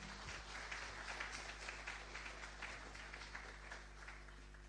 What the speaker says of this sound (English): A round of applause again, ladies and gentlemen.